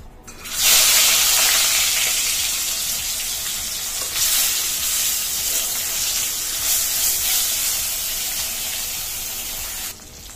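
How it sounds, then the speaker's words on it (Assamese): Fish dropped into hot mustard oil in a kadai, bursting into a loud, continuous bright sizzle that holds steady for several seconds before cutting off. "এয়া মোৰ তেল গৰম হৈ গ'ল ইয়াতে মই দিলো মাছ"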